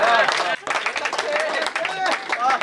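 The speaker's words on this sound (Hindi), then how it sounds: "ताली माली बजा।" An audience claps at a Hindi poetry gathering, a kavi sammelan, a dense patter of many hands that runs through the stretch alongside excited crowd voices and a speaker talking over it.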